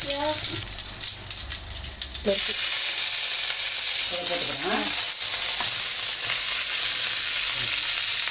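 Mustard seeds sizzle steadily in hot oil with a bright crackling hiss that jumps louder partway through as something drops into the pan, with faint talk early on.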